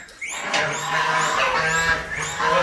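Chickens and young chicks on a farm give a steady stream of clucks and high peeping calls. The overlapping calls are fairly close and continue without a break.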